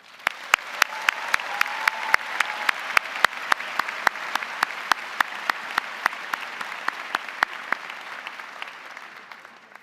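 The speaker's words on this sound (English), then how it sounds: "applause for all of them." An audience at a university public health graduation ceremony gives the graduates sustained applause, a dense, steady roar of many hands with sharp individual claps standing out close by, fading slightly at the end.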